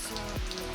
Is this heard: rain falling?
yes